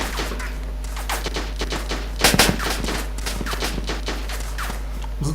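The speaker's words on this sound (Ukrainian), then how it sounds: "Стріляють, стріляють!" Gunfire in the survival video game DayZ Standalone: a run of sharp, fairly distant shots with one louder burst near the middle, over steady background noise.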